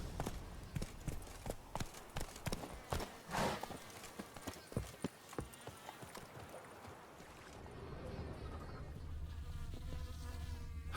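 Roach the horse gallops in The Witcher 3, a quick, rhythmic clatter of hooves that fades into a steady murmur of ambient game sound near the end, all faint and with no talk.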